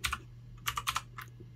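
Typing on a computer keyboard, a quick run of soft clicking keystrokes in short bursts, close and fairly quiet, with no voice.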